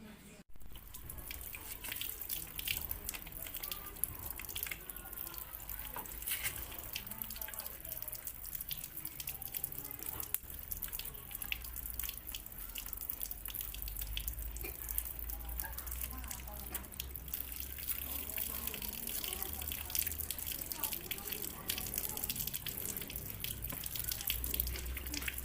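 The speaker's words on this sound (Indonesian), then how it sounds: "Sebelumnya saya ingin cuci tangan terlebih dahulu ya bu" Hands are washed under a running water tap, with a steady splashing flow throughout and faint voices in the background.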